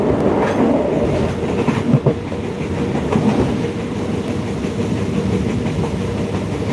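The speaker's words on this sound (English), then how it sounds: "Get on a third class train" A third-class train in Thailand rumbles steadily along the tracks, with a continuous clatter and rattle of carriages close by and no talking.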